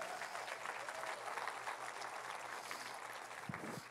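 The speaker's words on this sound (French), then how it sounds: "Voulez-vous applaudir avec joie?" A church congregation applauds steadily at a Sunday service, a dense, even wash of clapping held at moderate level throughout with no speech over it.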